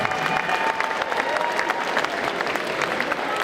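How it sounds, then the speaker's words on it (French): Continuous audience applause at a cosplay contest on a convention stage at Necronomi'con 2023, dense and even throughout, with a few faint cheers in the hall. "Vous pouvez l'applaudir encore."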